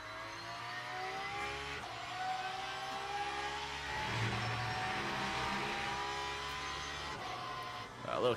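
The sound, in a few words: GT3 race car engine in Le Mans Ultimate video game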